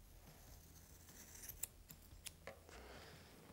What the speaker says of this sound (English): I'm just going to use some scissors and cut that off.